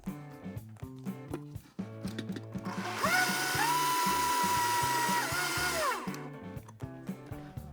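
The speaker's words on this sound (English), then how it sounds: "And then we're gonna give this a blend until creamy." A kitchen blender whirs loudly for about three seconds as it blends a mango sago mixture until creamy, rising in pitch as it spins up and dropping off as it stops, with music playing before and after.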